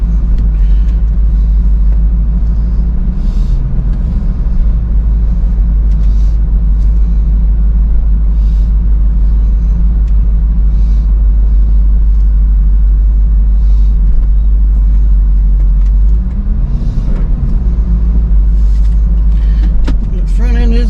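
A car with misaligned wheels, a low front end and running air conditioning drives along, giving a loud, steady low engine and road rumble throughout while someone talks over it.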